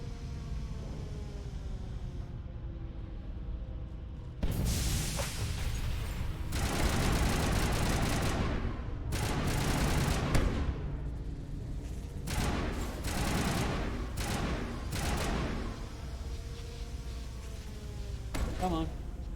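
Gunfire aimed at a giant enemy's toes in Mass Effect Legendary Edition on Virmire, with repeated loud bursts of shots over a steady game background, coming in clusters with short pauses between volleys.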